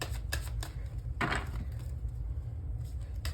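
Tarot cards being shuffled close by in a quiet room: a few crisp flicks, then a fuller riffling burst, followed by lighter card taps, with no voices.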